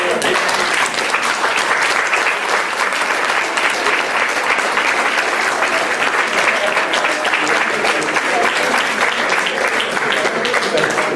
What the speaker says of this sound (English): So please, another big round of applause for our friend Valery.